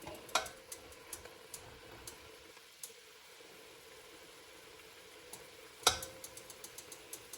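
Sausage sizzles as it browns in a pot over raised heat while a rabbit jambalaya cooks: a faint, steady hiss broken by a few sharp clinks near the start and again toward the end.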